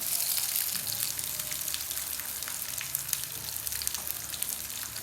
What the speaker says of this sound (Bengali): এখন বেগুনগুলো এক এক করে দিয়ে দিচ্ছি। হালকা করে ভেজে নিব